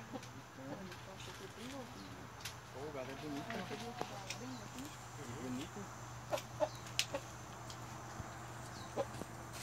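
Chickens cluck in a bamboo coop, with repeated soft clucks and short calls spread through the clip. People talk over the birds, and steady background noise runs underneath.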